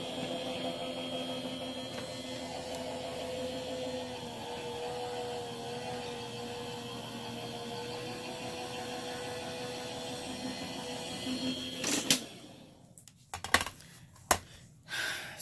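A die cutting machine runs steadily as it cuts a paper teapot shape for a gift card holder, giving a continuous mechanical hum with a faint whine that stops abruptly, followed by a few sharp clicks and knocks.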